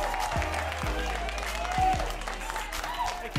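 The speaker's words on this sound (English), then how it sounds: "A big round of applause for Pat Bolduc" Audience applause welcoming a comedian onto the stage at a Chicago comedy show, steady clapping from a crowd that holds for a few seconds, with some cheering mixed in.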